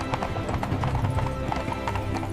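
Horse hooves clip-clop in a quick, even rhythm, close and fairly loud, with faint snorting and a soft whinny mixed in.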